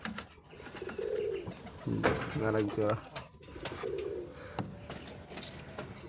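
Pigeons cooing inside a pigeon coop, several deep, throaty rolling coos close by in a few separate bursts, with a person speaking briefly over them.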